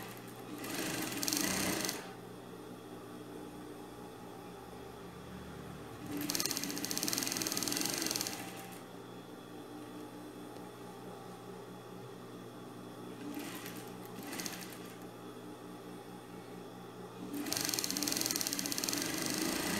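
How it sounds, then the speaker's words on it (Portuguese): A domestic sewing machine stitches a fabric cushion cover in four separate bursts of rapid mechanical whirring, each a couple of seconds long, separated by quieter pauses with a low background hum. "agora eu vou costurar, vou fechar dois lados e deixar um lado para passar isso"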